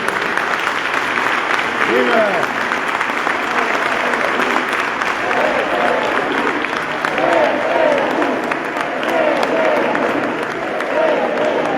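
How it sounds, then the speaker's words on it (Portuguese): An audience applauds performers in a hall at a Portuguese CDU political event on culture, with steady sustained clapping, a shouted cheer and voices in the crowd mixed in. "Uma salva de palmas para eles."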